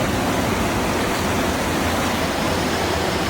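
A river at a temple site near Nirul, Ratnagiri, rushes with a loud, steady, close wash of flowing water that fills the whole short stretch with no other sound.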